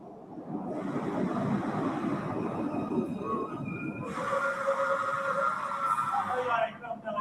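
Subway train running on a city line at night, with a loud continuous rumble, then rising metallic wheel squeals and whines as it brakes.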